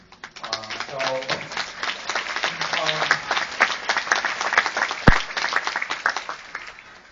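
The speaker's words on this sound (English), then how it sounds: "Tepid applause for a plea for unity." Tepid audience applause at the DC premiere of a documentary film: uneven, moderately dense clapping from a crowd that builds after a voice trails off and keeps going at a middling level, with one sharp thump near the end.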